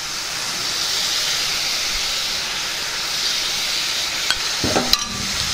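Beetroot rice mixture frying in a pan gives a steady, even sizzle and hiss throughout, with a few brief clinks of stirring near the end.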